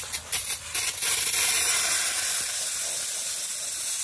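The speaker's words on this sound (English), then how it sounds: "we're gonna go ahead and take some brake cleaner" Brake cleaner sprayed onto the rear drum brake of a 1989 Ford F-350, a steady, loud aerosol hiss after a few short bursts, continuing unbroken for several seconds.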